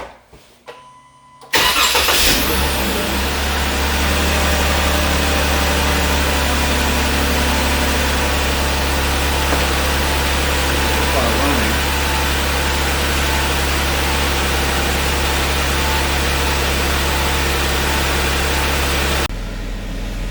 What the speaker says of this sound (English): And so let's give the car a start and try it again.